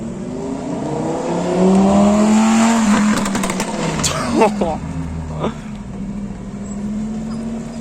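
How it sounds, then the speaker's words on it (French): A motorcycle passes by during a car meet at La Roche-sur-Foron, its engine note rising loud and close then fading, mixed with other vehicle noise and people talking nearby. "Alors le V12 que je disais qui arrivait, c'était une moto."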